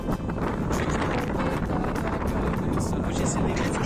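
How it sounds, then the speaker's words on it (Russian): Strong wind buffeting the microphone at the seaside, a loud continuous roaring rush with gusty fluctuations that fills the whole clip. "Очень сильный ветер."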